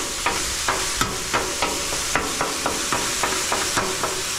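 Chicken and deer meat sizzle in a pan under a steady hiss, while a utensil scrapes and taps at a regular rhythm about twice a second, close by.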